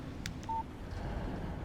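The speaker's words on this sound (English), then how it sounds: "Text message from Barry." Phone text message alert in the video game Alan Wake Remastered: a short electronic tone sounding once over low ambient game noise, with no talk.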